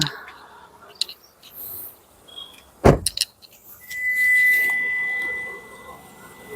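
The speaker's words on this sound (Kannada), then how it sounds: "ಗಾಡಿ ಆನ್ ಮಾಡಿದ್ದೀನಿ ಇವಾಗ" A vehicle is switched on with a sharp click and clunk, then an engine or motor hum rises and holds steady for a couple of seconds, close and moderately loud.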